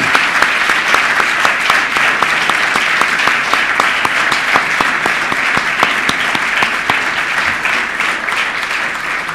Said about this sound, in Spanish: para quien me permito solicitar un aplauso en reconocimiento a su entrega y sus logros